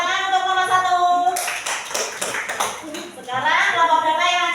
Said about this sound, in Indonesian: Tepuk tangan untuk nomor 1